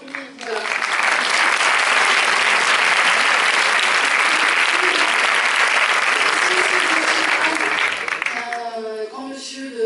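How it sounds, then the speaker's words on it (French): Audience at a film premiere applauds the film team, a dense, steady burst of clapping lasting most of the clip before fading into a voice speaking near the end. "On peut les applaudir."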